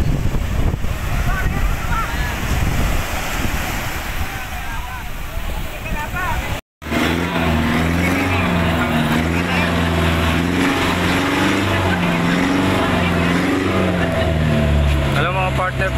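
A motorized bangka boat bound for Cagbalete Island, its engine a steady, close droning hum under wind and water noise. It starts after a brief cut, with murmured voices in the background.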